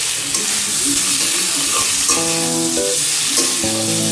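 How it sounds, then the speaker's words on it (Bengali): Pre-fried pumpkin and potato pieces stirred in a lightly oiled pan for a vegetarian curry, sizzling loudly and continuously up close with scraping stirs and clinks. "এবার আমি এই কুমড়ো আলুটা দিয়ে দিলাম, আমার আগেই ভাজা ছিল। এবার এটার সাথে এটাকে মেশাতে হবে"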